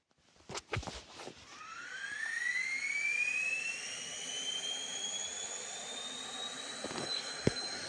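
Jet airliner engine in an airplane crash video game, a steady loud whine that rises and holds after a few short bursts, with a thin high tone sweeping upward over the roar.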